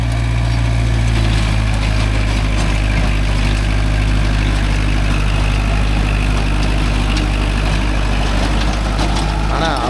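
A Kubota MU4501 45 hp tractor with a 42-blade Gomathi rotavator runs in a coconut plantation, its loud, steady low diesel drone continuous throughout.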